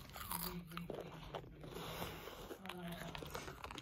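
Crunchy cauliflower crisps, sold as veggie chips, are bitten and chewed close by in a few crisp crunches, while people talk nearby.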